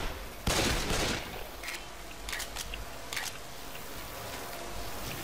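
Gunfire from shooting zombies in the video game Left 4 Dead 2: a loud burst of shots near the start, then scattered sharp cracks over a steady noisy background.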